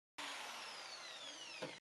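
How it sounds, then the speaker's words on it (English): A power drill bores a hole into a wall for a wall plug in one short continuous burst, its high whine sliding gradually lower before stopping, close with no voices. "A bit more drilling for the last 2 options."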